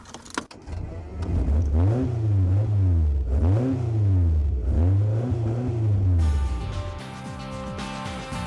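Fury kit car engine revving in loud repeated surges, pitch climbing and falling several times in a steady rhythm, close and continuous, with a brief clatter near the end.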